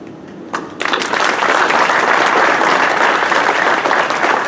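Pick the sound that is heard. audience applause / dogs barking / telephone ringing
audience applause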